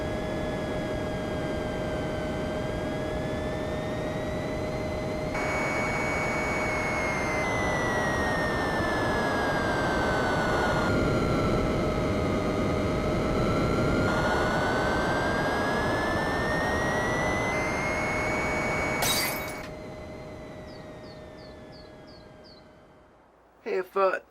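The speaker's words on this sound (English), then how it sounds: "Oh yeah, I'm finally gonna land the plane." A video game airplane's jet engine drones steadily during a landing approach, its pitch sliding down and back up, then cutting out near the end, followed by a couple of short thumps.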